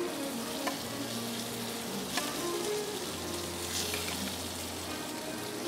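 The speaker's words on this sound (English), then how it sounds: "Just our octopus into our hot pan." Steady loud sizzling of octopus frying in a hot pan, a continuous crackling hiss with a few faint clinks and a low hum underneath.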